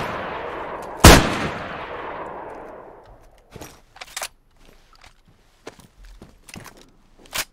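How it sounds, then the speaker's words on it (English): Low-level guns fire in a DayZ gunfight: one loud close shot with a long decaying echo, then a scattering of fainter, sharper shots and clicks spaced irregularly across the rest of the moment. "Let's replicate a little gunfight with, like, level 1 guns."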